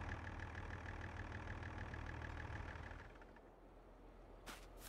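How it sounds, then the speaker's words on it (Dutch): A tractor engine in Farming Simulator 22 idles steadily with a low, even rumble for about three seconds, then quiets to a softer hum, with a brief faint click near the end. "Wacht, heb ik de motor weer aan laten staan."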